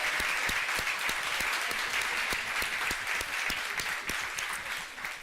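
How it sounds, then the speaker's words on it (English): A church congregation at Unity Renaissance applauds the men's group, a full, sustained round of clapping with a few sharp, distinct claps standing out, easing slightly toward the end. "Will the members of the men's group just stand so we can applaud you for all your hard work"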